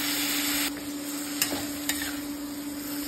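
Ivy gourd stirred with ground poppy seed paste in a pan, a steady wet sizzle with a soft scraping stir and two sharp utensil clicks against the pan, close and continuous.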